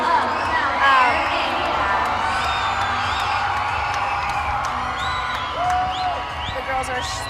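Crowd at a collegiate gymnastics meet cheering and whooping, a broad roar of many voices with scattered high shouts and some clapping, loud and continuous, with an announcer's voice likely mixed in.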